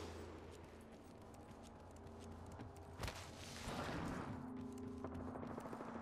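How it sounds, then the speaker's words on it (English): Gunfire in the video game Apex Legends: faint, distant crackling volleys and scattered shots, with one sharper burst partway through and a denser rumbling stretch toward the end. "Opening fire."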